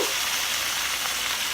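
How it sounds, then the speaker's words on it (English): Pork chops fry in a hot pan with a steady, dense sizzle that stays constant and close throughout, with no voices. "Nice and sizzling."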